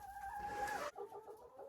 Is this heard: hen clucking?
yes